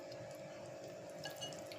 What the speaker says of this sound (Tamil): தண்ணி லைட்டாக விட்டு மிக்ஸ் பண்ணிக்கோங்க